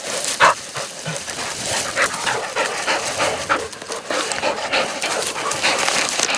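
Tired hunting dogs panting hard after a wild partridge hunt in Corsica, a close, continuous rapid rasping rhythm with faint movement noise around it.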